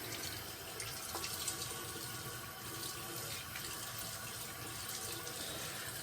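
Tap water runs steadily into a sink, wetting a head before a shave with Wickham's Cashmere soap, a continuous close splashing hiss that fills the whole stretch with no talk.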